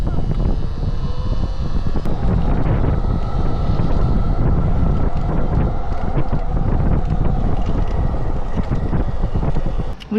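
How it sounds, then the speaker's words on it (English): Loud, constant wind roars and buffets the microphone throughout, with low rumbling gusts and no pause. "It is super windy."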